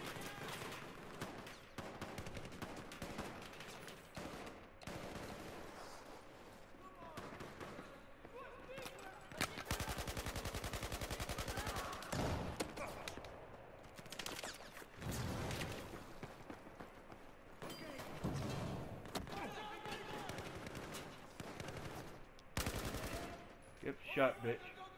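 Gunfire in the video game Battlefield 4 comes in repeated bursts and rapid volleys, some sharp and loud, others distant, with a player talking between shots.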